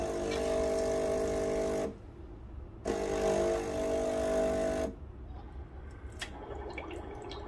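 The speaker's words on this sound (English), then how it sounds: "It is pretty neat that it actually auto clean itself after steaming milk." A Breville Bambino Plus espresso machine's steam wand auto-purges after steaming milk, hissing in two loud bursts separated by a pause, followed by faint dripping and clicks.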